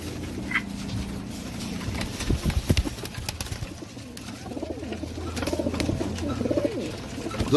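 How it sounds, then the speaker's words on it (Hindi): Dub pigeons, a prized fancy breed, coo softly and repeatedly at close range, their low rolling calls running steadily through the clip amid light rustling and background noise. "ये देखो डब वाला कबूतर"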